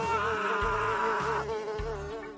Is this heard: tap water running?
no